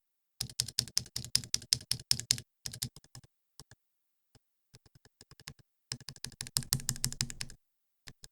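Typing on a mechanical keyboard with unlubed stabilizers, close and crisp, coming in fast bursts with scattered single keystrokes and pauses between them.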